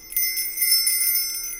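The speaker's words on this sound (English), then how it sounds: "this one here is an older sleigh bell that's been around for quite some time." An older sleigh bell rings with bright, sustained metallic tones that shimmer and linger, shaken continuously at moderate loudness without any voices.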